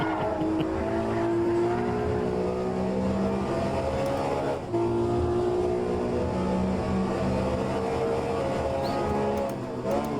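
Race car engine in a Lamborghini sprint race at Watkins Glen in a racing video game, revving hard as a steady high-pitched drone with rising gear pulls and a brief dip midway, loud and close, with no talk.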